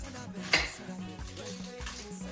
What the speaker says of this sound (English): We want to cut off both ends of it.